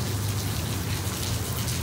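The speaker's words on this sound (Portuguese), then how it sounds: "mas tá chovendo e tá ventando" Steady rain hisses and patters close by, with a low rumbling gust of wind underneath, constant and unbroken.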